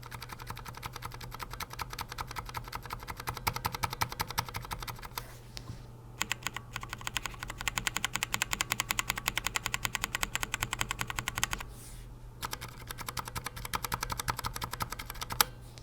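Fast, continuous typing on a Fanatec Mini Streak keyboard with Cherry MX Silence switches produces dense, muted key clicks close up, with brief pauses around the middle and toward the end.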